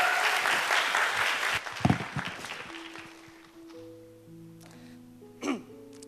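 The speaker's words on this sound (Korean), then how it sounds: "뜨거운 박수로 환영해 주시기 바랍니다." During a church youth worship service, the congregation applauds to welcome a speaker; the clapping is lively at first, then thins out and fades as soft sustained keyboard notes and a few stray thumps take over.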